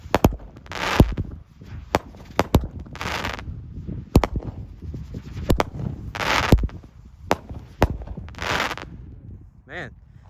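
Dominator Fireworks Atom Smasher, an 8-shot firework cake, fires a series of loud, sharp bursts at irregular intervals, each pop trailed by crackling, with spinning tails whistling near the end; a voice speaks briefly between shots.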